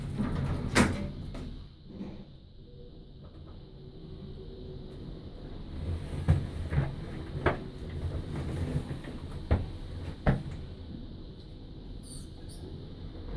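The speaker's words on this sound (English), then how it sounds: "Doors closing." Hotel lift at the Grosvenor Hotel in Victoria, with doors sliding shut and the car starting to move: a low steady hum broken by several soft clunks and clicks, quiet and close.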